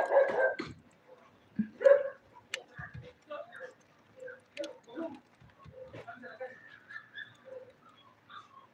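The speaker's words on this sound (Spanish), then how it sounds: "¿Dónde suenan los perritos?" Several dogs bark and yip in short, sharp bursts at a distance, faint and irregular, while a person talks quietly over them.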